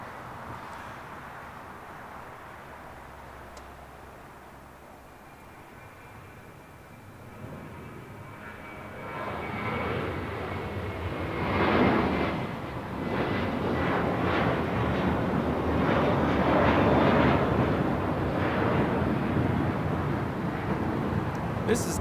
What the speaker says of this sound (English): This is Catchment If You Can, taking off to Miami, Florida. It's JetBlue Airways 2885.